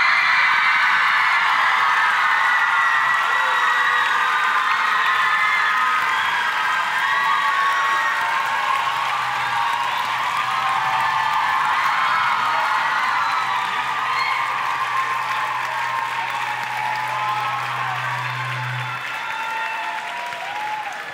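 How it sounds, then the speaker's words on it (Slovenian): Sustained, loud applause from a concert audience fills a hall at the close of a children's and youth choir festival, steady clapping with faint cheering throughout and no spoken voices. "En aplavz za vse vaše zborovodje."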